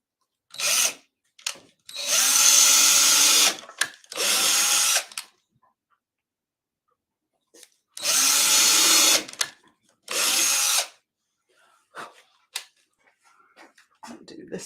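A power drill bores pilot holes, likely into a board substrate, in several loud close bursts of a second or two each. Two pairs of bursts are separated by silence, with a few faint knocks near the end.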